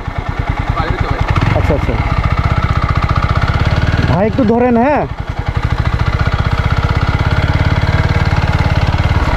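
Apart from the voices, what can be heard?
motorcycle engine idling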